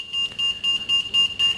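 Shop anti-theft security gate alarm set off by a hidden RFID chip, a loud, high-pitched electronic beep pulsing steadily about five times in quick succession, with no talking.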